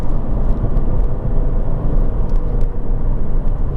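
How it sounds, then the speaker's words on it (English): Jaguar F-Type sports car engine, a loud, steady, close rumble that holds throughout with slight swells, without clearly separate revs or shifts. "the noises, the pops, the bangs, the upshifts, the downshifts, the gunning the engine to rev match, just sounds so fantastic"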